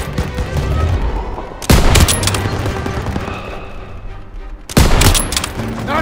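Heavy WW2 video game battle gunfire, with sustained rattling automatic fire and two sharp, loud bursts standing out near and close over a constant din of combat.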